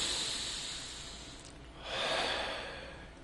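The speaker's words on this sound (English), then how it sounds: "Take a breath." A slow, deep breath drawn in as part of a calming self-love meditation, heard as soft airy hiss swelling up and then easing out, close and gentle with no talk.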